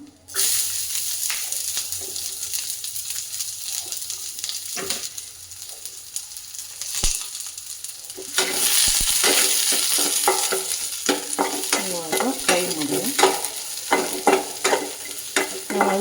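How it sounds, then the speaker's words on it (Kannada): Curry leaves crackle and fry in hot oil while making alasande (black-eyed pea) upsaaru, a steady broadband sizzle that swells louder midway, dotted with sharp pops and spatters and occasional stirring scrapes close by, with no talking. "ಕರಿಬೇವಿನ ಸೊಪ್ಪು ನೋಡಿ ಪುಟಪಟ ಅಂತ ಸಿಗುತ್ತಿದೆ"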